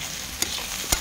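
Potatoes and dried fish fry in hot oil with a steady bright sizzle, broken by two short stirring scrapes.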